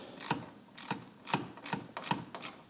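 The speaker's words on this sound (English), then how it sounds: "We're going to re-screw the bolts we just took out right back in there." Bolts being screwed back in on an Aston Martin V8 Vantage, a quiet, close series of about six sharp ratcheting clicks in a steady rhythm.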